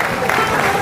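A brief burst of steady crowd clapping rises at a political party workers' gathering in Aurangabad, dense and fairly loud with a murmur of voices mixed in.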